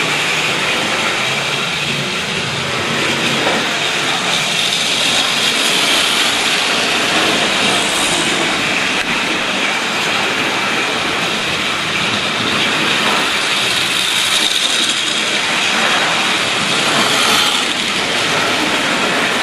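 Hornby L1 model train locomotive running past on a track indoors, a steady broadband whir and rumble that swells gently as it passes, continuous for the whole stretch without talk.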